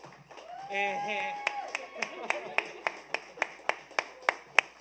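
The audience at a youth awards ceremony claps in unison, striking a steady series of single sharp claps about three a second. A voice speaks briefly just before.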